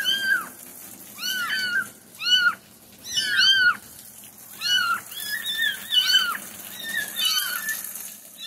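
A small kitten meows repeatedly, high thin cries coming in quick bursts of two or three with short pauses between, close and clear against a quiet background.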